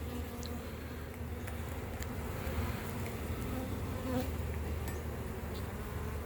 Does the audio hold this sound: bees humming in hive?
yes